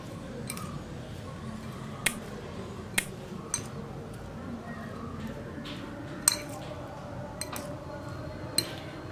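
A spoon stirs buttery sweet corn masala with coriander leaves in a bowl, making scattered bright clinks against the rim over a soft, continuous background murmur.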